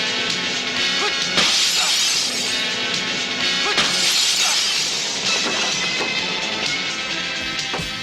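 Window glass shatters during a movie stunt: bright crashing breaks and tinkling fragments recur over a dense, busy background for several seconds.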